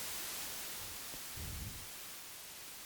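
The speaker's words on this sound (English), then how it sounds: "it's just a basic sort of very quiet white noise" A quiet synthesized white noise layer meant for a vinyl crackle effect: a faint, even broadband hiss that holds steady, with a slight low swell partway through.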